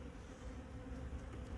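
Honey bees inside a hive give off a faint, continuous low buzzing hum, soft and even across the short stretch with no voices.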